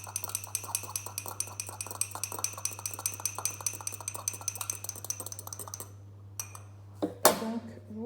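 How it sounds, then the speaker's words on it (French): Egg yolk and a little milk whisked in a glass, with a fork or whisk clinking rapidly and steadily against the sides for about six seconds, then a pause and a brief louder knock near the end. "Vous le fouettez."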